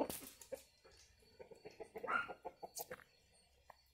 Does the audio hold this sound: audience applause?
no